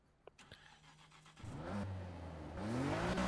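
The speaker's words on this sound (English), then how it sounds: "And now, the exhaust sound." Nissan Skyline R34 GT-R exhaust in the Need for Speed Heat racing game, starting from a low idle and then revving up in two rising surges, the engine note climbing louder and higher with a raspy roar.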